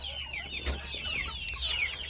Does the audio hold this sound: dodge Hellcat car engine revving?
no